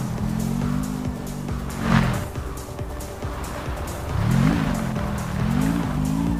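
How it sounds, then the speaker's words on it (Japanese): A car engine in the Car Parking video game drones continuously, its pitch dipping and rising a couple of times like a vehicle accelerating nearby, with background rumble. "あれなんか車の音してますね。"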